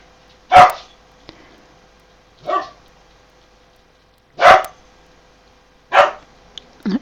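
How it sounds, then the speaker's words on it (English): Four separate barks from a dog indoors, loud and close, spaced about two seconds apart with quiet gaps between them. "I don't know which dog that is"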